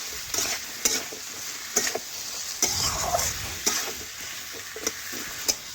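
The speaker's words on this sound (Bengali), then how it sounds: "ঝিঙেগুলো ভালোভাবে নাড়াচাড়া করে আলু গাজর মশলার সাথে দেখুন আমি মিশিয়ে নেব" Ridge gourd pieces being stirred with potato, carrot and spices in a frying pan, a spatula scraping and clacking in sharp regular strokes over a steady soft sizzle, close and clear with no talk.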